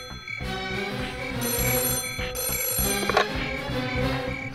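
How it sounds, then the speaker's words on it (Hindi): A mobile phone rings at a household, its repeating electronic ringtone loud and close, with tonal bursts running through the whole stretch and a short pause partway. "देखिए कहीं फोन तो नहीं बज रहा है।"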